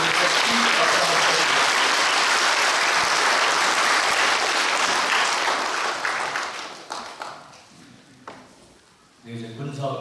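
Congregation at a church retirement thanksgiving service gives a loud round of applause, dense clapping that fills the first six seconds and then fades out, after which a voice resumes speaking.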